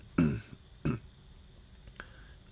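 Two short, rough throat-clearing grunts close to the mic as mucus loosened by nasal spray is cleared, followed by a fainter third click, in an otherwise quiet room.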